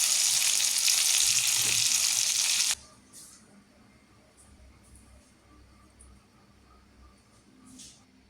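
Chicken pieces sizzle loudly in hot oil in a pan for the first few seconds, then the frying cuts off abruptly, leaving a quiet room with faint clinks and rustles.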